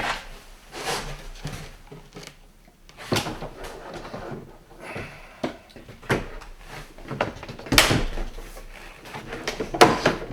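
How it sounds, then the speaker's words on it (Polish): A wide Blum Legrabox office drawer slides onto its runners with scraping rumbles and a few sharp clicks as it locks into place, close and without speech. "Już tutaj wkładamy. Klik, klik, klik."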